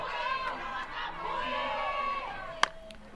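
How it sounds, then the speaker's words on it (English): Home crowd at a college softball game between Oklahoma State and Iowa State, booing and jeering a called pitch; a sustained wash of massed disapproving voices with one sharp crack near the end. "the crowd not liking the zone getting squeezed right there"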